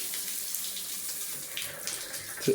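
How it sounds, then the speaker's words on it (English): Water from a large tiled shower runs steadily, a constant close hiss with slight splashing variation throughout. "Water runs."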